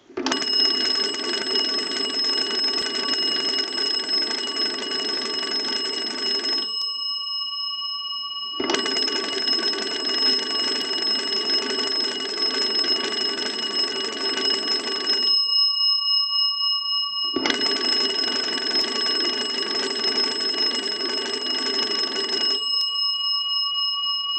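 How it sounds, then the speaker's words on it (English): Three long bursts of loud, rapid bell ringing from a Kellogg magneto telephone's original bells in a wood bell box, each lasting several seconds and separated by short silences, like an old telephone's bells clattering. "We'll go ahead and use the magneto and ring our original bells."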